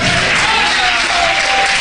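Church congregation applauding, a dense steady wash of clapping filling the whole moment, loud and close with a faint murmur of voices beneath.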